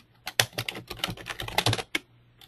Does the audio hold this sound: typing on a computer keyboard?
yes